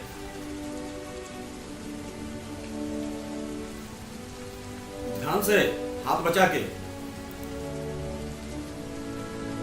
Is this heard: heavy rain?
yes